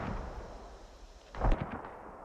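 A single muffled mortar blast in a video game tournament match lands mid-clip, with a few trailing pops over a steady low background hum.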